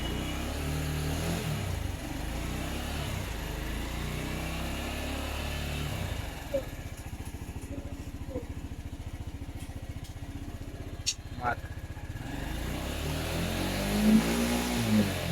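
A TVS Metro Plus motorcycle engine starts and settles into a steady idle, a low rumbling putter heard close with a few light clicks and knocks, rising slightly near the end, no talk.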